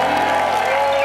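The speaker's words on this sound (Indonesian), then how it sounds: "Ladies, boleh berikan tepuk tangan untuk single man kita." Loud, dense applause and cheering from a studio audience on an Indonesian dating show, a steady wash of clapping throughout.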